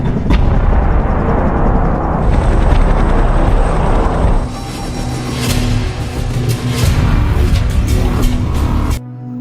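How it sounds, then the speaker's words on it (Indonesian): A loud, continuous helicopter roar with a heavy low rumble, joined midway by sharper crackling bursts, then cutting off abruptly. "kini Wes diantar menggunakan sebuah helikopter untuk pergi ke lokasi yang terletak di tenga"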